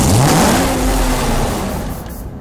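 A Corvette Z06 from the sixth generation, racing in Need for Speed Hot Pursuit Remastered, revs up with a rising engine note that climbs and then holds steady, loud and close, gradually easing off.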